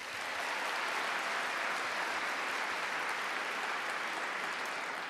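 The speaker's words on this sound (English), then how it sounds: "A round of applause." An audience at a university fashion show applauds, a steady, even roar of many hands clapping that swells in at the start and holds evenly, fairly distant and without speech.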